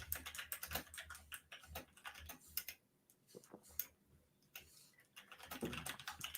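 Fast, uneven clatter of typing on a computer keyboard, close and fairly loud, pausing briefly in the middle before the keystrokes resume in dense bursts.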